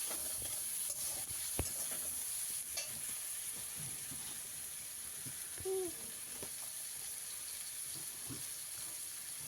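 Chopped ginger and garlic are stirred in a frying pan, with a quiet, steady sizzle under occasional scraping and clinking stirs of the utensil against the pan, heard alone.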